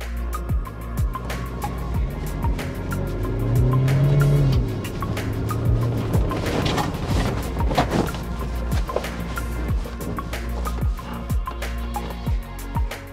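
An SUV in power mode, sport gear selection and 4 high accelerates hard, its engine rising in a continuous loud drone with brief tire squeal, gravel or surface noise and passing rumble at an off-road event.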